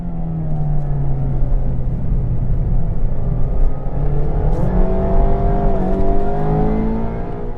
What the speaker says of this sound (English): Here I tried to slide the car in the dry.